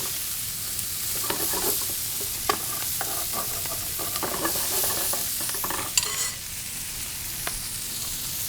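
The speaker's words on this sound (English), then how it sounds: "You can start to really smell the shallots getting toasted off in this bacon fat and olive oil" Shallots and Brussels sprouts fry in bacon fat and olive oil, giving a steady, close hiss with scattered crackles and spits throughout. Stirring clatters and scrapes now and then, and no one speaks.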